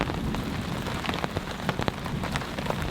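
Heavy rain pours steadily at a campsite during a thunderstorm, a dense close hiss with sharper drops and splatters popping out now and then, no voices.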